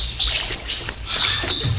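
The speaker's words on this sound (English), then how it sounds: "Hi, bird." Bird chirps and tweets, played on an AM music radio broadcast, sound in a steady run of repeated high calls over a low background hum, loud and close with no talk.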